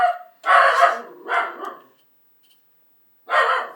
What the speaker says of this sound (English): she's had her barking fit, I hope now